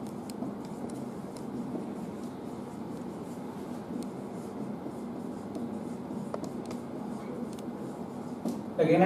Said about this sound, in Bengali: এখানে একটা বাক্য লিখলাম